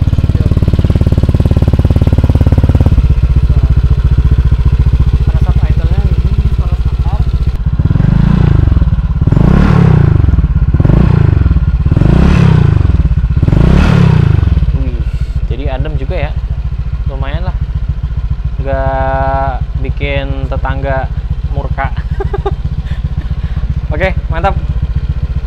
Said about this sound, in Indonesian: coba kita cek sound dulu. Suara knalpotnya tuh kayak gimana?